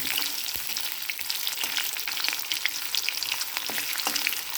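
Ginger and mint fry in a thick, heavy pan with a steady, dense sizzle and crackle that stays close and even throughout, with no talking.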